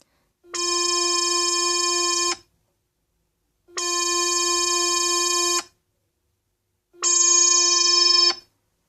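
Three sustained, bright synthesizer notes, each about two seconds long and separated by silence, with the filter pulled down so the tone comes out less bright. The notes are loud and stand alone with no talking.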